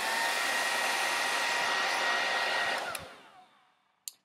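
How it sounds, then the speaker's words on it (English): A hair dryer roars loudly and steadily at close range, then switches off and winds down, ending with a sharp click. "So, here's my hair dryer. I'm going to turn it on. It's going to be loud."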